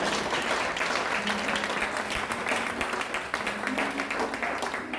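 A congregation applauds to acclaim the Lord with loud, dense crowd clapping that continues without a break for about five seconds, with voices mixed into the clapping.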